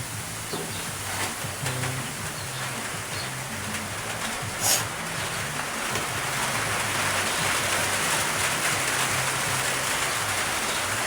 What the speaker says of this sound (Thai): พี่น้องฝนตกแล้วพี่น้องเนาะ